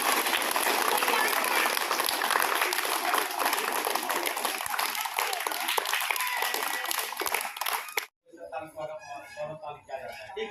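A group claps steadily and loudly for a school welcome of children, keeping up a continuous patter for about eight seconds before it breaks off into quieter chatter and talk.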